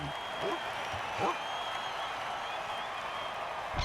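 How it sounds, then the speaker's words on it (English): A home crowd in a football video game roars and applauds in a continuous broad wash of cheering, steady and fairly loud throughout with no distinct voices standing out. "The home crowd is cheering and throwing up at the same time."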